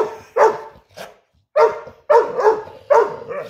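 A dog barks repeatedly at close range, four or five sharp loud barks in an uneven rhythm with short pauses between.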